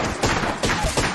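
Gunfire in a video game, a quick sequence of about three punchy sniper-style shots spaced evenly and heard close up, with no talking during them.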